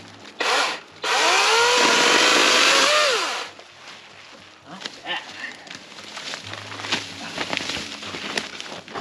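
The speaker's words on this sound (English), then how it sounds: "80 volt 18 inch bar chainsaw" A Greenworks Pro 80V battery chainsaw with an 18-inch bar whirs loudly in two bursts, the second longer with its pitch rising and falling as it cuts, then stops. Quieter rustling and handling noise follow.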